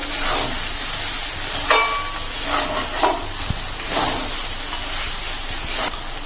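Semolina frying in oil for spicy suji upma, stirred with a spatula: a steady soft sizzle and hiss, broken by occasional light scrapes and clicks of the utensil against the pan.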